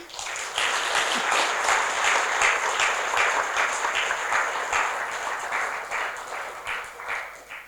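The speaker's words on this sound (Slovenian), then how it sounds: "da še damo en aplavz vsem našim nastopajočim" Steady applause from a concert audience in Destrnik, Slovenia, for the evening's performers, a dense wash of many hands clapping that holds for several seconds before tapering near the end, with no voices over it.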